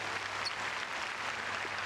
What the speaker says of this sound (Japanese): 今一度シーズン全力で戦い抜いた選手の大きな拍手をお送りください